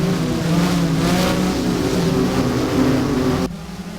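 Porsche Mobil 1 Supercup race cars howl around the Hockenheim circuit in the Race07 sim, engines droning loud and steady with a rising pitch before the sound drops off abruptly near the end.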